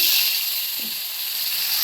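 Bhetki fish heads frying in hot oil, a loud, steady bright sizzle that stays constant from start to finish, close up and with no talking.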